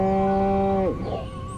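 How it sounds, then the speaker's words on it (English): A cartoonish cow moo from a video game, made of strong sustained tones for nearly a second and then sliding down and dropping away, leaving only quiet game ambience. "Again with the moo? I think these lactating bovoids are trying to fool us."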